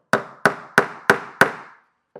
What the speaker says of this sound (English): We're then going to hold it in place and tack in our first nail.